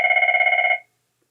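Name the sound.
telephone ringing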